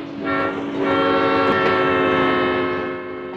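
A 1970-era California Zephyr passenger train races past close by, a steady loud roar of rail noise with a sustained chorded horn blast running through it.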